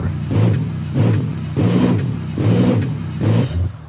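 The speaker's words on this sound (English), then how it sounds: "Now, all we have to do is wait for the engine to hydrolock." A minivan fitted with a 640-horsepower F1 race engine revs in the BeamNG Drive video game, loud and close, in about five rhythmic surges of roughly equal length that rise and fall while the engine waits to hydrolock.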